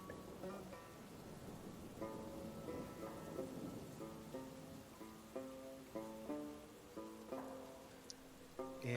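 Soft, steady rain patters in the background of a tabletop role-playing game session, faint and continuous beneath a repeating tonal music bed.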